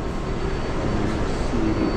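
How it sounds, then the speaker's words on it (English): A New York City 7 subway train running along an elevated track in Queens, a steady, loud rumble with rolling low-end noise and a faint high whine, sustained without pause for two seconds. "this train right there is heading to the city"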